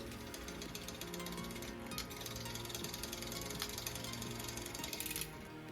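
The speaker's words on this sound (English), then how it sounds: "I next spin the chain several times to work the lube in." Spinning a freshly lubed bicycle chain backwards makes the freewheel click in a fast, continuous ratcheting buzz, close and steady throughout, with no talking.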